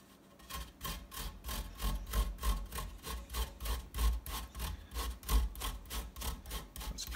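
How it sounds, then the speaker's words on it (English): Food is grated on a hand grater during salmon poke bowl prep, making rhythmic rasping strokes, about sixteen back-and-forth scrapes at a steady pace, close and distinct with no talk. "That's precision grating right there."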